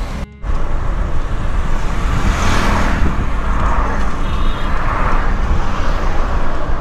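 Car driving along a road in Abuja, Nigeria, a loud, steady rush of engine and tyre noise heard from inside, with no talking.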